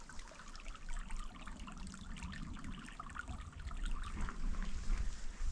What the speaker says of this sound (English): there's definitely a stream here